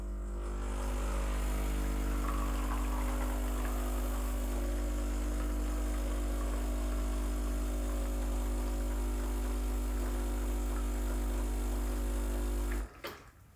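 A Breville BES920 espresso machine brewing a shot, its pump giving a loud, steady electric hum for about thirteen seconds before cutting off abruptly.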